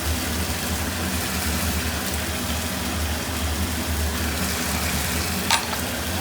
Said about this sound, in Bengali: সব কিছুকে একসাথে ভালো করে কষিয়ে নেব যতক্ষণ না রান্না থেকে তেল ছেড়ে যাবে